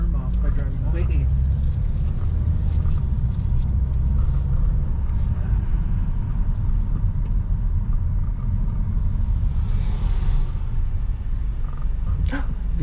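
A big truck rumbles past a moving car, a steady low roar of road and engine noise running throughout, with a person talking over it.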